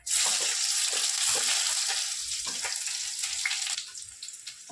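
Chopped onions dropped into a hot oiled pan burst into a loud, hissing sizzle that stays strong, then gradually settles into a softer, crackling fry with light stirring clatter.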